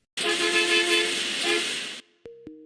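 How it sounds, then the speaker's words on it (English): A bus horn blares in one long loud blast, then two short toots follow after a brief gap. "A horn honked and the bus engine sputtered to life with a belch of black smoke."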